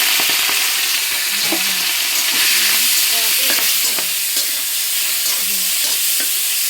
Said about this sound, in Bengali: যে চিংড়িগুলো ভেজে নিচ্ছি